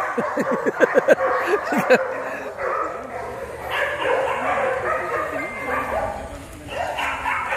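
K9 dogs barking in a cluster of sharp, close barks at the start, then scattered yips and whimpers as people talk over the noisy background.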